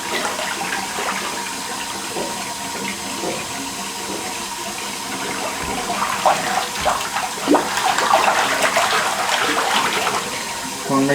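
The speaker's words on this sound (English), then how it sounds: "run the hot water to break down any of the feces." Hot water runs steadily from a tap into a bathtub full of sewage, a continuous loud splashing rush that swells slightly toward the end, with no talk over it.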